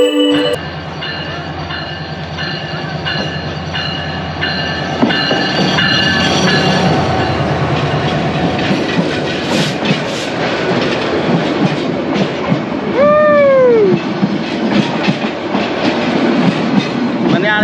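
A passing train rumbles through Joydebpur station in Gazipur, with steady clattering wheels, rising to a louder rush with bright wheel squeals and a brief high screech near the end.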